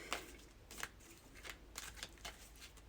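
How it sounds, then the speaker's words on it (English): Tarot cards being shuffled by hand, a quiet series of crisp riffling and slapping bursts repeating every half second or so, close and faint, with no talking. "let's shuffle a little bit"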